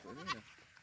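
A goat in rural Bicol gives a single short bleat, wavering and nasal, fairly faint at a moderate distance, followed by quiet.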